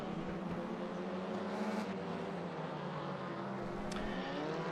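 Cupra touring car from the WTCR 2018 class racing in a RaceRoom replay, a steady high engine drone holding a constant pitch throughout, with faint shifts and no talking.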